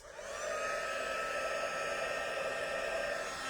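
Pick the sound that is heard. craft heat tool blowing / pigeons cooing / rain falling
craft heat tool blowing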